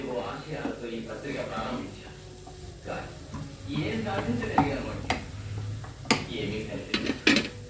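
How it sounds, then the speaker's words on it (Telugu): Banana flower curry is stirred in a pan after coriander goes in, with spoon clinks and scrapes against the pot over a soft sizzle while a voice talks throughout. "కొత్తిమీర వేసి ఒక్కసారి ఇలా కలిపేసి"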